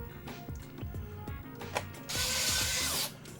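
Screws being driven into the underside of an Xbox console with a ratcheting tool, a series of quick close clicks followed by a brief burst of brighter whirring, quiet and with no talking.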